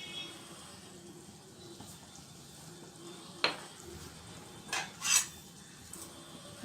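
Pav bhaji vegetables and salt are pressed and mashed in a pan, giving a low background scrape broken by a few sharp metallic clinks and knocks of the utensil against the pan.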